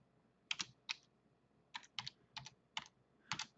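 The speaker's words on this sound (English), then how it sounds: "Sorry, my typing is so bad." Slow, uneven hunt-and-peck typing on a computer keyboard, seven separate clusters of close, crisp key clicks spaced with pauses, heard alone in a quiet room while working in AutoCAD and SketchUp.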